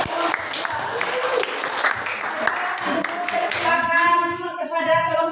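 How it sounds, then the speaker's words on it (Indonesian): An audience in a classroom bursts into dense applause, with many hands clapping together. Voices join in, sounding like a group chanting or cheering as the clapping continues. "Tepuk tangan untuk"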